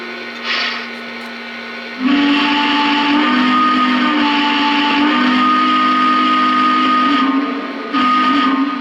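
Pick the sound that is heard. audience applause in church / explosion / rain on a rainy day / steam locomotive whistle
steam locomotive whistle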